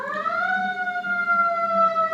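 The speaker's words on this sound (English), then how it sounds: "2 sirens." Two emergency sirens wail together in steady, sustained tones, fairly loud and close, with no talking.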